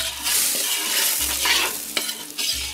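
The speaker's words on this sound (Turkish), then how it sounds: "Tereyağında kavuruyoruz soğanı." Chopped onions sauté in butter in a pot for a rice pilaf, a steady sizzle broken by the scrape and swish of a spoon stirring in several short strokes, close up.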